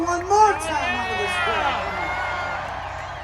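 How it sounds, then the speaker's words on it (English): Concert crowd at an outdoor country music event in Hastings, Michigan, shouting and cheering together in one sustained roar, with voices blending into a loud wash that swells early and then holds steady. "Can I get a hell yeah one more time out of this"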